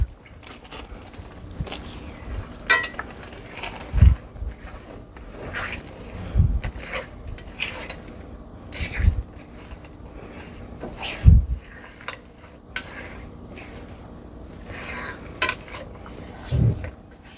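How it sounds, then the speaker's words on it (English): A spoon stirs chocolate chunks into thick cookie dough in a skillet, with repeated scraping and soft dragging strokes and several sharp knocks of utensil on pan, close and clear with no talking. "And now we're going to stir that to combine."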